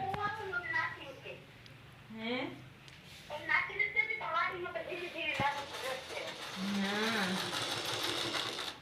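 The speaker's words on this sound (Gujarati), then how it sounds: "શાંતિ તો મશીને બેઠી છે" A household sewing machine runs in a home kitchen, its steady mechanical whir strongest toward the end, with people talking over it throughout.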